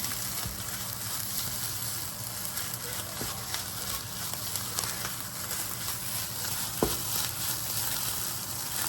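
Pork belly fried rice with seasoned seaweed being stirred in a hot pan: a steady, close sizzle with faint scraping throughout, plus a few soft knocks.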